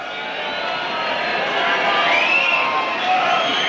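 A dense, steady crowd roar fills a rugby league stadium during a kick at goal by David Lyon at a 1990s Warrington home match, loud and continuous throughout.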